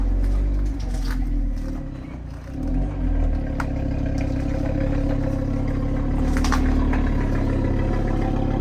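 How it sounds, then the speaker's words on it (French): An Audi RS3 five-cylinder engine idles with a low, steady rumble, close by, with a slight dip in level partway through before settling back. "Oh le bruit du 5 cylindres comme ça au ralenti"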